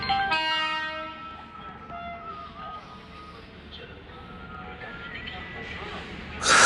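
A train at a crowded Indian railway station sounds a loud horn that fades, followed by a low, steady rumble of the train moving, with a sharp burst of noise at the end.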